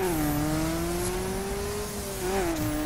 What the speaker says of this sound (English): gotta take the little rally car out for a little bit of a drive on here